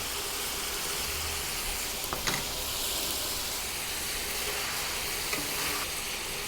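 Shrimp hits a hot pan for a Thai sweet and sour pork and shrimp stir-fry, producing a loud, steady, close-up sizzle throughout, broken by a couple of brief clinks of a utensil against the pan.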